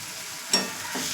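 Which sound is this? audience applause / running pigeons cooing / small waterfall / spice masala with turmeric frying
spice masala with turmeric frying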